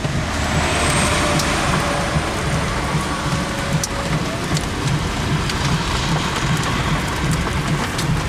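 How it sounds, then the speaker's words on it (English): Hail pours down in the West Texas desert as a dense, loud, continuous patter, with sharp scattered impacts over a low rumble heard from shelter under a bridge. No voices are heard. "This hail, this is round two. It just keeps coming."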